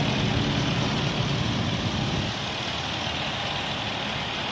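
A 2002 Ford Explorer Sport Trac 4x4 with 72,000 miles idles steadily nearby, a continuous low engine rumble that eases slightly partway through, with no talking.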